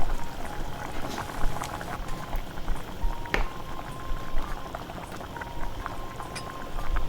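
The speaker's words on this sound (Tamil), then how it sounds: "அதோட தக்காளியையும் சேர்த்து இன்னும் ஒரு தடவை நல்லா கொதிக்க விட போகிறேன்." Chicken rasam with whole shallots and tomatoes boils vigorously in a pot, a steady close bubbling and popping with scattered sharper pops throughout.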